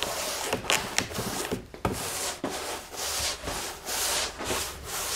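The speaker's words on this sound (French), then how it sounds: "je l'étale vraiment bien, de façon à ce qu'il n'y ait pas du tout de surépaisseur" Finish being rubbed and spread thinly over a restored wooden heritage piece, a steady close scrubbing and wiping with short pauses and strokes, no talking.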